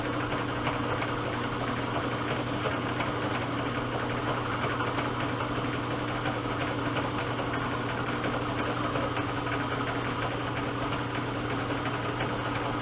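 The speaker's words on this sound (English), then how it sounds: "We're at the 660 RPM on the mill" Milling machine running at 660 RPM in a workshop, heard as a steady droning motor hum with constant tonal whine and vibration, unchanging throughout and without voices.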